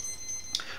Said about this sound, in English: I'll just disconnect this so the beeping stops